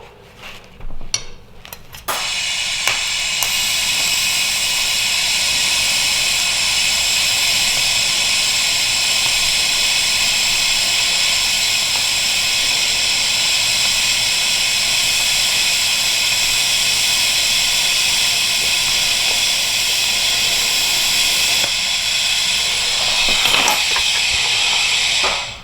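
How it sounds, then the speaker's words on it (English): TIG welding torch laying a continuous bead, a loud, steady hiss and buzz lasting over twenty seconds, with brief clicks and shuffling before the arc starts and as it ends. "I'm gonna send a weld down, completely down the side."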